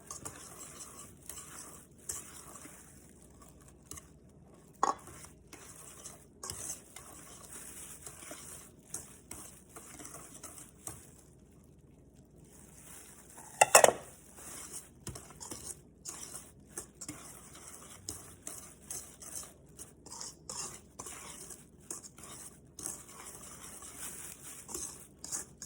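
A spoon stirs and mixes chocolate brownie batter in a bowl, giving a steady run of soft scraping and clinking strokes, with one sharp louder knock of the spoon against the bowl partway through.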